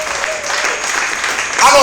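Congregation clapping hands during worship in a church, a dense steady wash of applause that swells slightly louder near the end, with voices mixed in.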